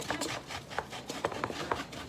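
Buttery graham-style crust crumbs being stirred and pressed in a bowl for a key lime cheesecake base, giving soft, close, irregular scraping and crunching taps repeated over a couple of seconds.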